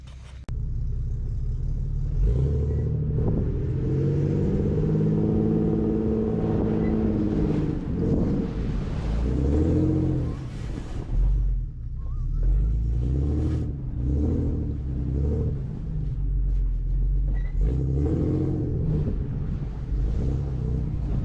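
Engine of a vehicle towing a stranded 2018 Lincoln Navigator on a back country road: a steady, loud low rumble with swelling revs that rise and ease throughout, with no talking.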